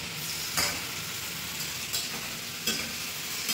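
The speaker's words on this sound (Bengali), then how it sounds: "আর একটু ভেজে নিয়ে এতে জলটা দিয়ে দেবো।" Fish and taro fry in a pan with a continuous close sizzle, punctuated by a few scraping stirs of a utensil against the pan.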